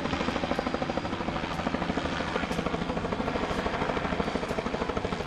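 A close, steady buzzing whir of a small toy helicopter's rotor, pulsing rapidly and evenly throughout without pause.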